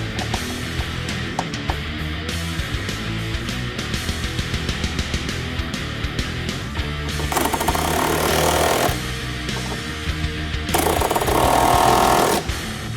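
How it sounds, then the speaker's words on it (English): Power tool tightening rear suspension bolts on a 2015-2023 Mustang fastback, a rapid hammering rattle running steadily and close, with two louder, harsher bursts near the end. "I'll install the top bolts."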